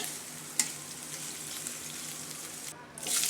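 Onions hit hot oil for noodles with a short clink, then a continuous hiss of frying builds and swells louder toward the end, close and without speech.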